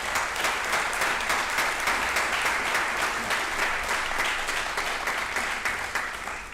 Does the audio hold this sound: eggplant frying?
no